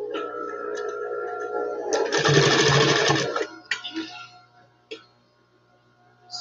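An industrial high-speed sewing machine running under a foot pedal, stitching through thick material, gives a loud close burst of about a second and a half, then a few short clicks and taps before going quiet.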